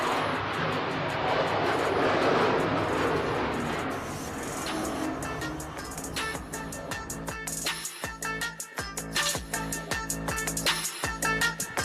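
Indian Tejas fighter jet rolling down the runway for takeoff at the Aero India 2023 air show, a loud broad jet roar that swells then fades, followed by a rapid series of sharp crackling bangs.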